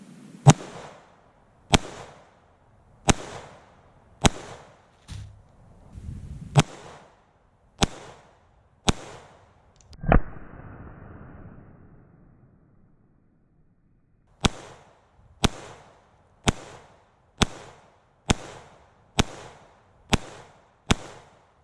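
Rifle shots fired into sandbags ring out as sharp, loud single cracks in a quick, fairly even series, with one heavier boom trailing a longer decay, then a pause before another rapid run of shots.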